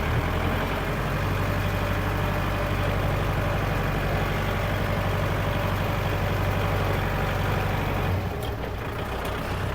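A Kubota L5018SP tractor engine runs steadily in first gear, a loud, close, continuous diesel rumble with a low throb that shifts slightly near the end.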